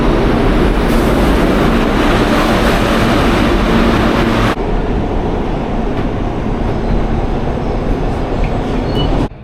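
A New York subway train rumbles loudly and steadily from inside the car, with a continuous roar and a faint rattle that shifts partway through.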